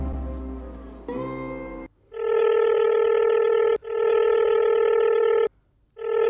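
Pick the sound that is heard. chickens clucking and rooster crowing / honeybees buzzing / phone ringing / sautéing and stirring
phone ringing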